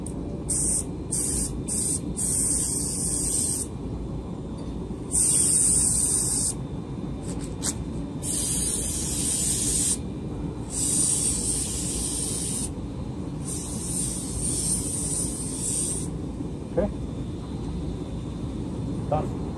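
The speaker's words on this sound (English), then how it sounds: "apply a thin layer of this mold release on top of all our compression molding mold" Mold release sprayed onto a compression molding mold for HDPE scrap, a loud, close aerosol hiss that comes in repeated bursts of different lengths, with a person talking over it.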